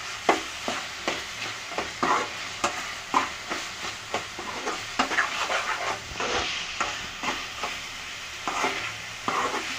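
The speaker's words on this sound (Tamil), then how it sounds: "ஸோ இப்போ இது கொஞ்சம் ஹை ஃப்ளேமில் வச்சு நல்லா மிக்ஸ் பண்ணிக்கோங்க." Egg and capsicum stir-fry over a high flame with a steady sizzle, while a spatula scrapes and stirs the pan in repeated rhythmic strokes, close and fairly quiet, with no voices.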